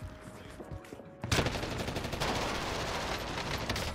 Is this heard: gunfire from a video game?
yes